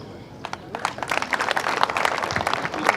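Audience clapping at a county project launch in Isiolo, a dense burst of applause building and holding loud for a few seconds, with some crowd noise underneath.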